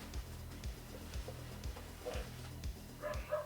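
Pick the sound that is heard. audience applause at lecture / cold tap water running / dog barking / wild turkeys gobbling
dog barking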